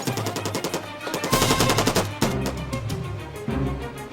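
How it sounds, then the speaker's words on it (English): Rapid bursts of automatic gunfire rattle out loud and close, in quick repeated volleys with short breaks between. "With automatic gunfire raining down around them"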